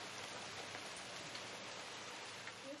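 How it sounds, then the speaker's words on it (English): Steady rain falls outdoors in a continuous soft hiss of drops hitting surfaces, with no voices and no breaks, at a quiet, even level throughout. "you can see it's actually raining"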